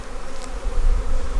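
Honey bees buzz around hive frames in a Demaree bee yard, a steady close drone throughout the short moment with slight swelling in loudness.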